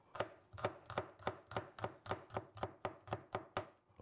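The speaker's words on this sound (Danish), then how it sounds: "Og hvidløgene, de bliver også lige delt og hakket." A knife chops garlic cloves on a cutting board in a brisk, even rhythm of about a dozen sharp taps, close and alone, during home cooking of Indian chicken curry.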